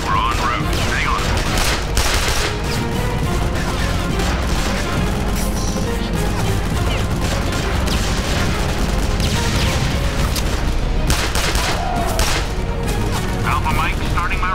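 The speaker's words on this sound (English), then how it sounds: "We're under fire from bunkers." Gunfire from enemy bunkers in a Vietnam War video game, with dense, continuous bursts of shots and crashing impacts over a loud battle roar, plus faint radio-style voices mixed in.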